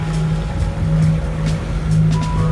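A sailing yacht motors under engine power on a windless sea off Sicily, a steady low diesel hum with water washing against the hull close by.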